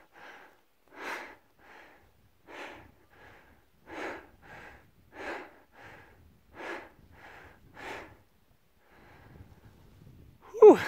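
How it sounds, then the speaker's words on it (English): Heavy, rhythmic breaths of a runner on a trail race lap, a dozen or so rough huffs at an even pace, fairly faint and close, ending with a brief sharper sound. "some hard breathing in the background."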